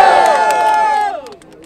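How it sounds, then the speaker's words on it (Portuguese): A crowd at a rap battle cheers and shouts loudly, a brief burst of many voices that fades away after about a second. "Barulho pra cima de Atena"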